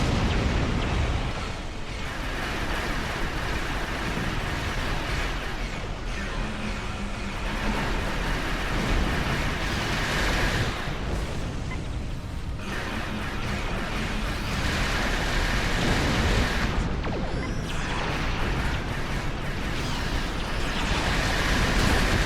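Space combat explosions from the Star Trek Online game roar as a continuous dense, loud broadband rumble with surging booms throughout, no speech present.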